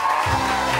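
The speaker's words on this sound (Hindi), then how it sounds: "तालियां बजाएं।" Studio audience breaking into applause and cheering on a television morning show, a loud, dense burst of crowd noise filling the short moment with no talk over it.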